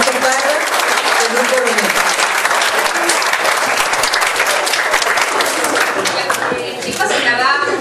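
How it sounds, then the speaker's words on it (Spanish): A crowd at a Miraflores entrepreneurship event breaks into loud, sustained applause filling the whole stretch, dense and close with a few scattered cheers and voices mixed in. "con un aplauso muy fuerte"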